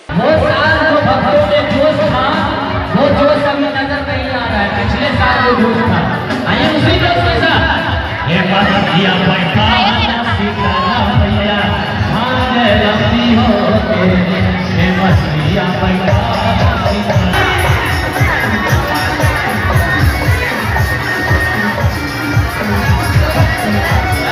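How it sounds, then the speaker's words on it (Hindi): Dense crowd of devotees walking in a religious procession toward the Patneshwari Mata Garhha Wali Shaktipeeth in Mithila, Bihar, with a brass band playing; steady loud hubbub of voices and rhythmic band music throughout, people chattering nearby. "बैंड बाजा के साथ काफी संख्या में श्रद्धालु सभक भीड़ छल।"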